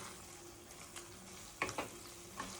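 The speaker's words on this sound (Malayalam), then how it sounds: "ചെമ്മീൻ ഇട്ടിട്ട് ഇങ്ങനെ ഒന്ന് 1 മിനിറ്റ് ഇളക്കി കൊടുക്കുക" Fried prawns are stirred in a pan over a low flame for Kerala-style prawn roast, with a soft steady sizzle broken by a few scraping stirs of a spoon against the pan, close and quiet.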